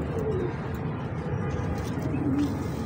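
Soft, low pigeon coos rise and fall a couple of times over a steady background rumble.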